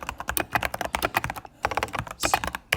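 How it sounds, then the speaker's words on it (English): Quick bursts of typing on a computer keyboard, close and crisp, with irregular clacking keystrokes and a couple of brief pauses. "I'm just going to type this in really quick."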